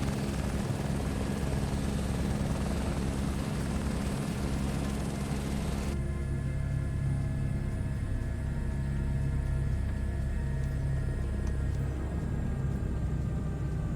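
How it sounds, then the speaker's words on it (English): A helicopter flies in Microsoft Flight Simulator 2024, a steady loud rotor and turbine drone that holds throughout, its tone shifting about halfway through, with no voices. "Is flying a heli in MSFS a thing?"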